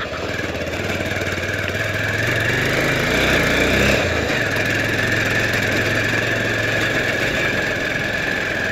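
A motorcycle rides a rough, potholed hill road in Palpa, its engine droning steadily up close, swelling briefly louder midway with rattling vibration before settling back to a constant hum.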